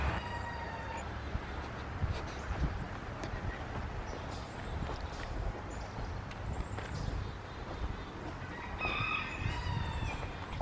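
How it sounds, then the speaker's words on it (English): Agitated birds call loudly in alarm at a hawk perched on a nearby branch, with repeated shrill cries and crowing-like calls over steady outdoor background noise, near and far. "Birds are very, very upset and they're making a lot of screaming sounds"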